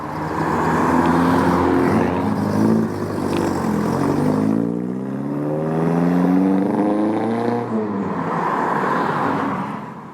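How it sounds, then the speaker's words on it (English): A Smoothie Mk1 Ford Fiesta pulls away from a Sunday morning car meet, its engine revving loud and near, pitch climbing through gear changes, then easing as the car moves off. "Off goes Dean in the Smoothie Mk1 Fiesta."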